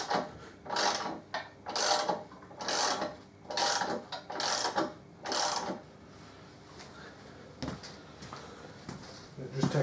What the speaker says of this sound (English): what I will do is I will jack it up just a touch.